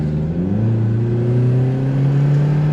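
A turbocharged Toyota 4Runner accelerates hard from inside the cabin, the engine note climbing steadily in pitch over a few seconds, loud and continuous with a rising whir.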